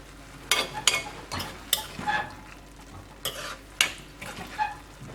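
Chicken keema frying in a pan and stirred with a utensil for a Kerala-style sandwich filling, giving repeated close scraping and clinking strokes over a soft, steady sizzle, with no talking.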